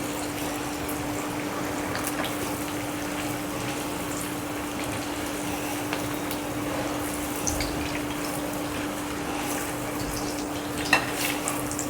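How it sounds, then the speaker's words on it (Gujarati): Dahi vada batter dropped into hot oil sizzles with a steady, even frying hiss and a low hum running throughout, moderately quiet, with an occasional faint pop and no talking. "આ રીતે આપણે બધા તળી લઈએ."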